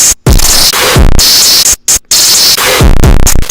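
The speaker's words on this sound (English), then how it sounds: "We are pretty much turning whatever we put into the Waveshaper into a square wave." Harsh, buzzy square-wave distortion from the FL Studio Waveshaper plugin, a loud, dense distorted tone chopped into repeating bursts with brief dropouts to silence between them, with no voices.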